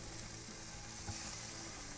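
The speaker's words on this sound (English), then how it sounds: "Frying up some sausage patties." Sausage patties sizzle and fry in a pan, a steady broadband crackle with faint pops that holds close and even throughout, with no voices over it.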